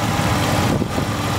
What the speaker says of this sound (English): Again, 4-liter straight six under the hood. Runs perfect.